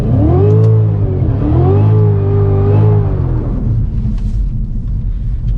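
A Cadillac CTS-V launches hard from a standstill on cold tires, its engine roaring close and loud through rising revs and a couple of gear changes before settling into a steady, fading drone.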